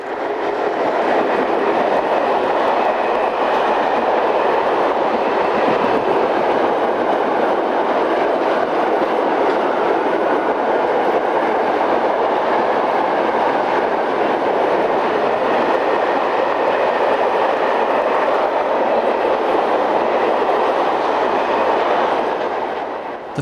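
French electric locomotives of classes SNCF BB12000, CC14100 and CFL3600 running on a line between Luxembourg and Thionville, with a loud, continuous rumble and rail noise that holds steady throughout.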